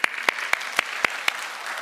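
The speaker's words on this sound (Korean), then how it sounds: "하나님께 감사의 박수 올려드리겠습니다." Church congregation at a Sunday worship service clapping in unison as thanks, six sharp, evenly spaced claps in quick rhythm, then a soft background hum.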